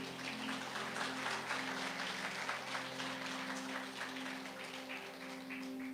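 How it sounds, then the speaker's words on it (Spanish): Congregation applauding during a Catholic church service, a steady, dense clapping that fills the whole stretch at moderate loudness, with a sustained tonal hum beneath it. "Un aplauso a Jesús."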